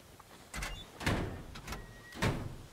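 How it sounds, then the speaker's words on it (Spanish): A door opening in the video game PUBG, heard as a few short sliding, knocking bursts in quick succession, fairly close and clear with no talk. "Abrieron la puerta."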